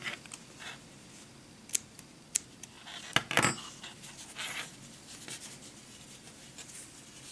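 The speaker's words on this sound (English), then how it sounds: "And you cut this yarn." Scissors cutting crochet yarn while making a rose for baby booties: a few sharp, close snips spaced a second or so apart, with soft handling rustle between them and no talking.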